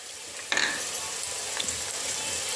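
Onions with hing, turmeric and cumin powder fry in oil for Punjabi rajma, a close, steady sizzle with a brief clink of a spoon against the pan.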